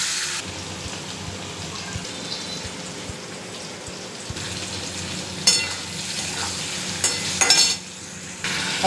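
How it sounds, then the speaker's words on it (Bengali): Paneer fries in a pan with a steady soft sizzle and crackle, joined by a few louder bursts of hiss and clatter near the end and no voices. "পনিরটা ভেজে নিচ্ছি।"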